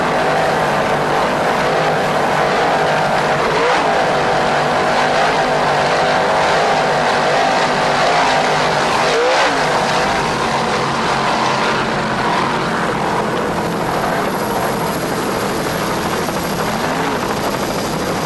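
Racing powerboats from the 1995 Maxon Grand Prix's B class, including B14 Full Throttle, roar at full throttle in a loud, steady, continuous engine drone with a slight rise and fall in pitch.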